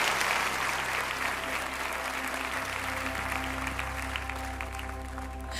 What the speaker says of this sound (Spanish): Un buen aplauso a ella y a su familia que está con nosotros.